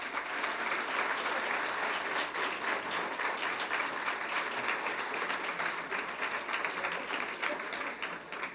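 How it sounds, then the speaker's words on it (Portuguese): Theater audience at an anniversary celebration for a law journal gives a long, steady round of applause, a dense even patter of many hands heard from a distance throughout. "Mais uma salva de palmas."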